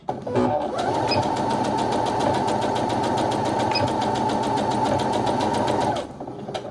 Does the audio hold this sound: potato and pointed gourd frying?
no